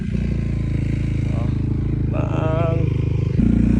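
A Yamaha XMAX scooter labours over a rough, dry dirt mountain road, its engine droning steadily up close amid rattles and clatter, while a rider speaks over it.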